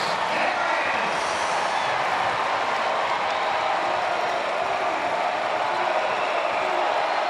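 Basketball arena crowd at a Penn State at Illinois game roaring and cheering after a foul call, a dense, steady wall of noise with applause mixed in, loud and sustained throughout.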